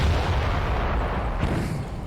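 A deep, rumbling boom as a Churchill tank is knocked out in Company of Heroes, one heavy low blast that rolls on and slowly fades over about two seconds.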